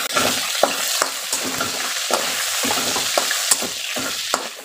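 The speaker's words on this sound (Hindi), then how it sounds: "इसे इसी तरह से चला चला के पका ले।" Small chicken pieces for chicken fried rice are stirred and fried in a pan. Loud, continuous sizzling is cut by regular scraping strokes of the spoon, heard up close with no talking.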